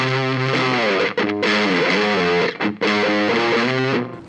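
The heavily distorted, fuzzy bass riff plays loudly with sliding pitch bends, briefly dropping out twice before continuing.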